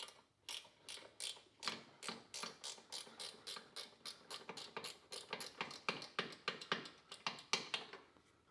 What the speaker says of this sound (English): Now I can go for a ratcheting wrench or something.